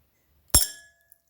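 A single sharp clink of a 5 rand coin striking the bottom of a glass of water, bright and close, with a brief ringing decay and a couple of tiny ticks afterward.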